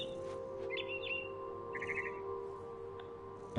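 Small bird chirps and tweets sound faintly in the game What Remains of Edith Finch, a few short calls and a quick trilling run over a steady low ambient hum.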